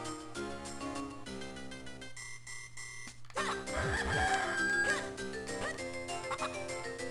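Chickens cluck and crow in the video game The Legend of Zelda: The Minish Cap, over chiptune-style game music, with a busier stretch of fowl calls in the second half.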